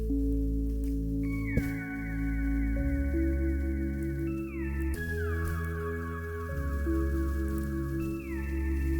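A synthesized drill-beat melodic sample runs through vinyl, delay, reverb, filter and flanger effects, playing held tones and gliding bell-like notes that repeat in a two-bar phrase, with smeared echoes trailing each change.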